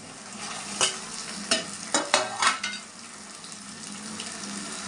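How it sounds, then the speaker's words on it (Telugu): Taro root pieces frying in a pan, a soft background sizzle with a handful of sharp scraping stirs clustered in the middle, close and without speech. "చామదుంపలు వేసుకుంటాం."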